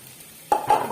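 Sugar and jaggery stirred in a pan, a quiet lull followed by two quick scraping strokes close by near the end.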